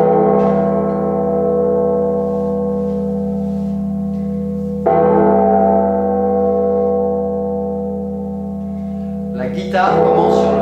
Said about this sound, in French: on a une espèce de cloche, je vais mettre le morceau.